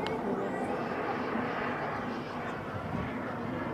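A military jet of the 211th Tactical Squadron from Čáslav roars overhead at an air show in Holíč, a broad, sustained engine rumble and hiss with someone talking over it.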